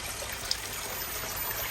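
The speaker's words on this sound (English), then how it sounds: "And there's a close-up of the actual waterfall." A small garden waterfall about 1.5 metres high in a subtropical garden trickles over rocks, giving a steady, close, unbroken wash of running water with no voices.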